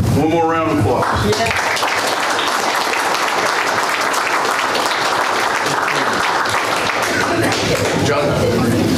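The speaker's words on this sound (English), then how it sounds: "One more round of applause." Loud sustained applause and clapping from a crowd at a county commission meeting, continuous for the whole stretch, with a brief voice at the start.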